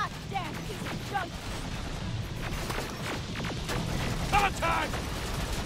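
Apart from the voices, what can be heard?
gunfire in the video game Terminator Resistance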